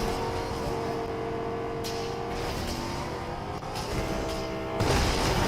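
Car engine in the video game Fortnite, a steady, loud motor drone with rising revs and a heavy thump near the end, with no talk over it.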